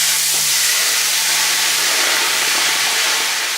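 Marsala wine poured into a hot pan with bacon for chicken and mushrooms: a loud, dense, continuous hiss of steam fills the whole stretch, close up and unbroken, fading only slightly at the end.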